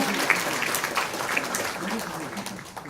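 Audience applause at a Chungcheong regional city and provincial council policy forum, a steady wash of clapping from a seated crowd as council members are introduced, with a voice talking briefly over it.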